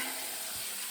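Salmon steaks frying in a pan with onion, a loud continuous sizzle filling the whole moment, close and steady with no talking.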